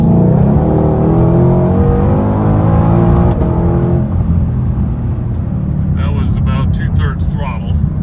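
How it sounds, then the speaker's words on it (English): A 2020 Shelby GT500 at full throttle, its loud engine note climbing in steady rising harmonics for about four seconds before settling, with a voice talking over it near the end. "Okay, so we can give it some gas here, and we'll see the dash lights,"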